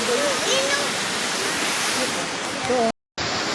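Steady roar of a waterfall at a resort stay place in Naga City, loud and broadband throughout, with people talking over it and a brief cut near the end.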